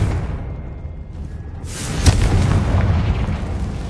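A spell explosion in a Hogwarts video game: a soft whoosh rises into a sudden deep boom, followed by a rumbling, crackling tail.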